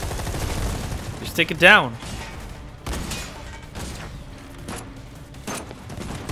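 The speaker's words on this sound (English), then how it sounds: "And they just start shooting." Enemy gunfire in Final Fantasy VII Remake, bursts of shots and impacts scattered through the scene beneath game music, with a person briefly speaking over the action.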